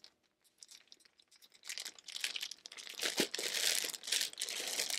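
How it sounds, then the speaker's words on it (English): A shrink-sealed plastic package is opened after a quiet start, bursting into dense crinkling and crackling that grows louder and busier toward the end, close and with no voices. "How do you open this thing without tearing what's on the inside?"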